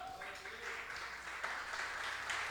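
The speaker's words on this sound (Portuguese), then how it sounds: "Você pode aplaudir o Senhor?" Church congregation applauding during a worship service, a brief, moderately faint patter of many hands clapping with soft background murmur.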